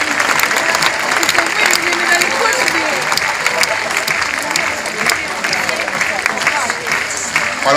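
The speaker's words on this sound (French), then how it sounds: "Et allez, on applaudit Victor, allez." An audience at a recortadores bullfighting event in Beaucaire claps steadily, a dense, loud applause from a crowd with some voices mixed in, continuing throughout.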